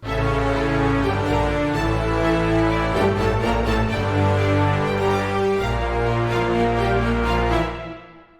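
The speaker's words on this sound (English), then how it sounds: "when we listen to all the instruments in our orchestra" A full orchestral texture of layered sustained strings, brass and low bass notes, arranged in FL Studio for a metal track, swells together, dense and loud, before cutting off abruptly at the end.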